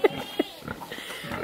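Pigs on a small farm grunting: two short, sharp grunts close by, followed by softer snuffling grunts scattered through the brief moment.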